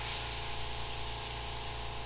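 An airbrush sprays paint over a skull stencil in a steady, even hiss that holds for the whole short moment, close and uninterrupted.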